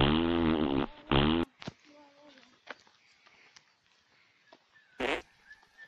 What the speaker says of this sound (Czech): Čvachtavý prd.